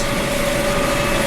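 Tractor engine idling in neutral, a steady close rumble with a constant humming drone and no voices.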